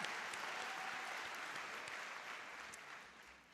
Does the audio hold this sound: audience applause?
yes